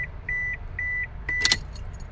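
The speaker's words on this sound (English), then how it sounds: "we're going to put our key on" Car keys jangle and clink near the ignition of a 2005 Toyota Passo as the key is turned on, with several short electronic chime tones sounding before a bright burst of metallic rattling.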